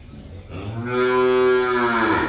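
A single long, low cow moo, loud and close, rising and holding steady before trailing off, with no talking.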